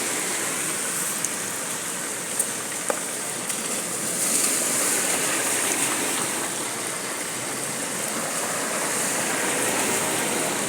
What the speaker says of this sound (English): This rain real terrible.